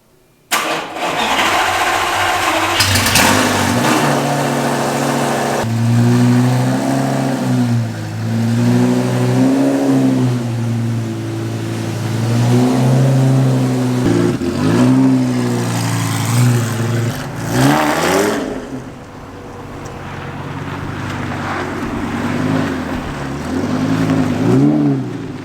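A Lamborghini sports car starts up and revs loudly close by, its engine rising and falling through several throttle blips before it pulls away and fades into the distance, then briefly swells again; no talking is heard.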